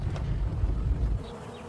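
A low, close buzzing hum of bees, steady and full, fading slightly toward the end of the short stretch.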